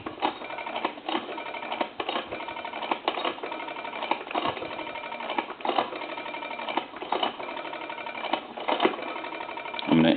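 Rapid mechanical clicking bursts from a brass rotary telephone repeat in regular runs as the dial spins back, heard through a narrow, phone-like band.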